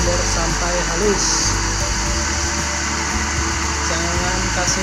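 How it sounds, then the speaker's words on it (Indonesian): Electric blender grinding rice for homemade orchid fertilizer, a steady loud whirring drone running the whole time with faint background noise. "Kita blender sampai halus."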